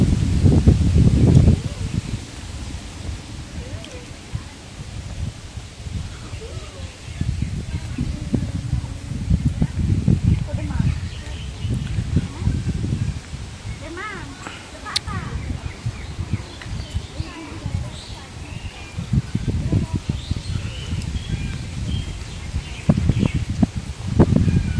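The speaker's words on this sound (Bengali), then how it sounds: "বাতাসটা দিল দেবা, সেই সুন্দর বাতাস" A breeze blows through leaves beside paddy fields being irrigated by a motor pump, a steady rustling wash running the whole time with a few faint bird calls and louder low gusts now and then.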